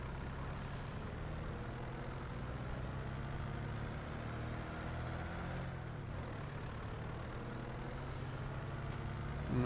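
An old tractor engine in the video game Farming Simulator 25 drones steadily at low pitch throughout, a constant mechanical hum with no break.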